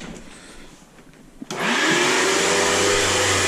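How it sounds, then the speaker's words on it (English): A Riccar 100 vacuum cleaner switches on after a quiet moment, its motor spinning up into a loud, steady, close whine that keeps running to the end. "I'm gonna vacuum over here so Elizabeth has time to amscray."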